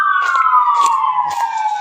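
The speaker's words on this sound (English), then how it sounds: "Sorry about the ambulances." An ambulance siren passes nearby in a residential retirement area, a loud, continuous wail sliding steadily downward in pitch as it goes by, with brief traffic noise around it.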